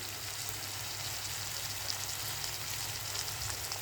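Chopped onion frying in a pan for upma gives off a steady, even sizzle with a soft crackle throughout, close and moderately quiet, with no voices.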